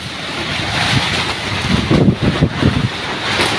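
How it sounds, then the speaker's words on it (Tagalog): Strong wind roars past the microphone outdoors, a loud continuous rushing buffet with gusty surges and low rumbling, no voices heard. "Sabi, lakas ng hangin mga ka-riders"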